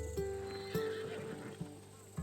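A Macedonian battle horse neighs in a video game, a loud whinny over a steady ambient hum, with a few soft hoof thuds and bumps following.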